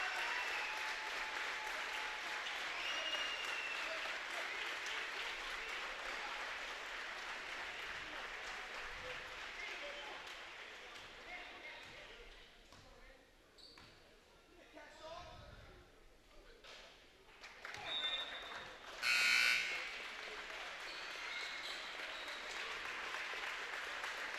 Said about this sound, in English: And now it's Lubreski who gets an ovation as he leaves the game.